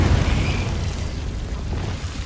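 Confringo fire-blast spell in Hogwarts Legacy, a dense rumbling boom that fills the whole moment and fades slowly, loud and close.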